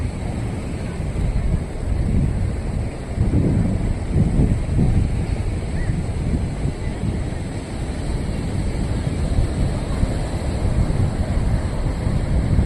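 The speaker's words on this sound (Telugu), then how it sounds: "అలలు కూడా చాలా తక్కువ వస్తాయి." Gentle sea waves wash in at Rushikonda beach, a steady broadband roar of surf with soft swells and wind buffeting the microphone, no voices present.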